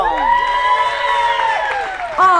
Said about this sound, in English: All the Canadians are here to cheer her on.